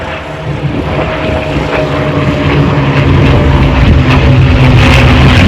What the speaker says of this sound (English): But here come the planes.